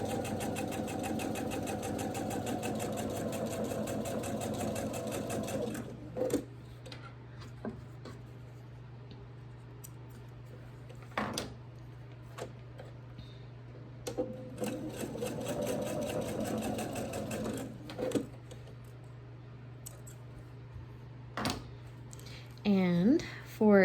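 A sewing machine stitches a quilt block seam in two close, steady runs separated by pauses with small handling clicks, a low hum continuing throughout.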